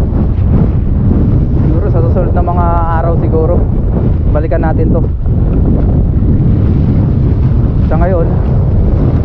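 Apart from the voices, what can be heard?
strong wind at the seashore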